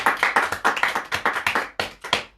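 A church congregation claps in acclamation, a strong steady rhythm of about a dozen loud, close hand claps in quick succession.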